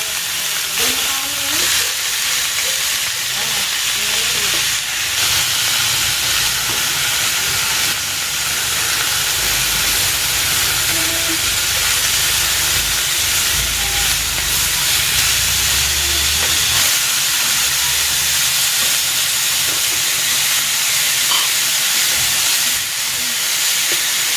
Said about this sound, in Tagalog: Isi-sear ko muna itong pork.